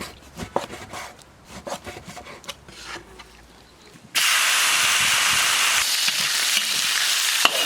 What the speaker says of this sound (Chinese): 现在切点五花肉炒一下